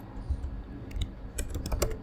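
Rapid, close keystrokes clatter on a computer keyboard as code is typed, an uneven run of crisp clicks over a soft background hum.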